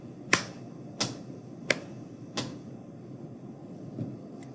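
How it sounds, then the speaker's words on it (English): Single sharp hits sound in a slow, even beat in a quiet room for a music rhythm lesson, four louder strikes followed by two softer ones, each isolated and close, with no voices. "this one is going to be clap, stomp, clap, stomp"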